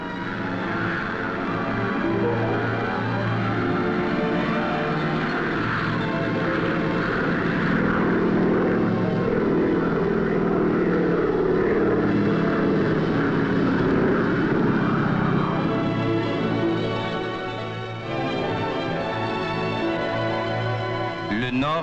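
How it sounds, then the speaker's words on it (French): A propeller airplane departs from the Magdalen Islands, its engines droning loud and steady for about twenty seconds, the tone shifting as it moves off, with faint voices underneath. "on parle fort à cause des moteurs, on regarde partir l'avion sans nostalgie."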